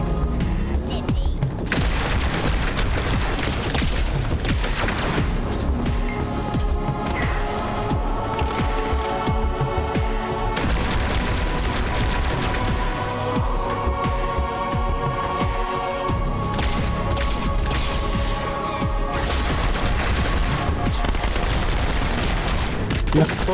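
Covenant Carbine fire in the Halo 2 video game comes in rapid, repeated shots and blasts, layered with other gunfire and booms in a busy battle mix, while players talk over the action throughout.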